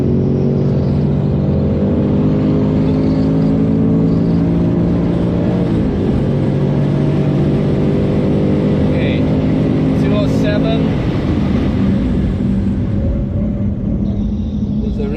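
A Ford Mustang Dark Horse lapping a track on sand-dusted tires, its engine a loud, steady drone that rises and shifts in pitch through gear changes, heard close from inside the car.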